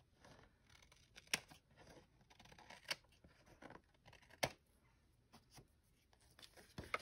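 Scissors trim paper for a craft project in a quiet room, making several crisp, separate snips and small paper rustles spaced irregularly, close and faint.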